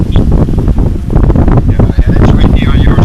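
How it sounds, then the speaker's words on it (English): Strong wind batters the microphone beside open water with spray blowing off the surface, loud continuous buffeting rumble with gusty surges throughout, voices faintly present beneath. "Oh, it's real windy on our side."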